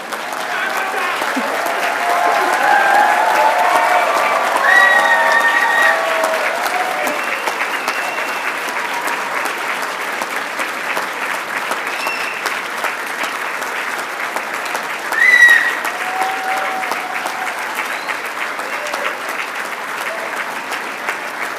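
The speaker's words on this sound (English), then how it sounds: "join together in a thunderous applause for our graduates" Thunderous applause for graduates at the 2023 Torrens University Australia graduation ceremony in Melbourne, a long sustained roar of clapping from a large hall audience, swelling early, then settling to a steady level, with a brief louder burst later and faint voices and whistles mixed in.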